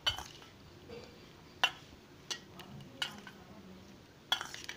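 A paneer salad dressed with lemon juice is tossed in a bowl, giving a few sparse clinks and taps of a utensil against the dish, close but quiet, with soft shuffling between them.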